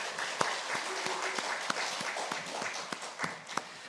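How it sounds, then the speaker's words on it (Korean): Scattered, sparse clapping from a small group at a university chapel service, individual claps distinct and uneven, fairly quiet and lasting a few seconds. "감사의 박수 한번."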